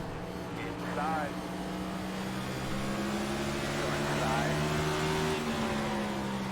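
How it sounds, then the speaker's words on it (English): Several NASCAR Cup Series race car engines in iRacing at Richmond roar and whine together at high pitch, revving and shifting continuously, loud and close, with some speech faintly underneath. "These cars are so loud next to each other."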